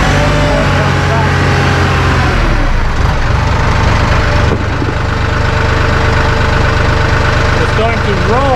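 A Massey Ferguson 1M/2M eHydrostat compact tractor idles nearby, its steady mid-pitched engine hum running evenly throughout with a slight shift in tone partway through.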